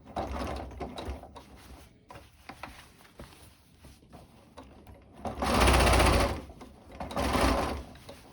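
A sewing machine stitches fabric for a sun dress, running in quiet bursts with mechanical clicks and handling noises, then two louder, sustained whirring runs near the end.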